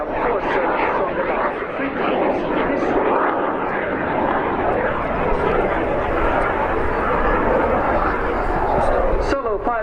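Aermacchi MB-339 jets of the Frecce Tricolori roar steadily overhead during a flying display at RIAT 2018, a loud continuous wash of engine noise with crowd chatter mixed beneath.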